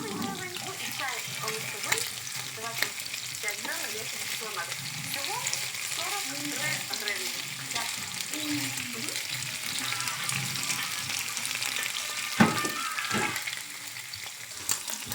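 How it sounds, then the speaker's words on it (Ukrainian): Meat for plov fries in a pan toward a golden crust, a steady crackling sizzle with stirring and clinks, while a person talks over it intermittently. "м'яско підганяємо до золотистої скоринки"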